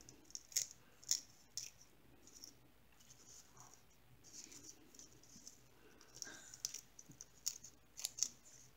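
Scissors snipping through paper straws, a series of crisp, close cuts coming in small irregular clusters with quiet handling noise between them.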